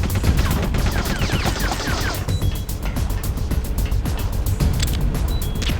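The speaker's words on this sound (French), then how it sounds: "Bon allez, il va tirer le canon." Cannon fire and heavy explosions in the video game Metal Gear Solid: The Twin Snakes, a loud, continuous barrage of blasts and crashing debris with game music underneath.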